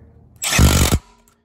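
A brief whirring burst from a power driver runs screws back into the bottom cover of a 1990 Honda Goldwing motorcycle, loud and close, lasting about half a second before stopping.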